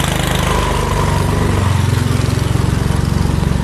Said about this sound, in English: They're cutting off the sod right now.